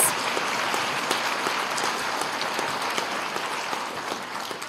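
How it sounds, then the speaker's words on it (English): Applause rises from the audience at a junior high awards night for students earning honors, a steady rain of clapping with a few sharp individual claps standing out, easing slightly toward the end. "let's have a round of applause for our students who have achieved honors in 2 classes"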